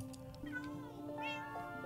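A cat in the video game Minecraft gives a couple of short, high meows close up over a quiet background.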